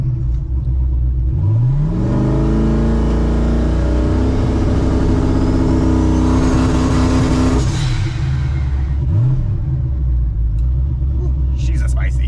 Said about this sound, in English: I guess time to do a two-step check.